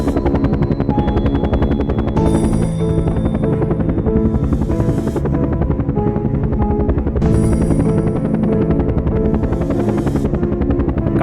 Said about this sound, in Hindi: बाबा ने हेलीकॉप्टर टेक ऑफ किया और समंदर की ओर जाने लगे।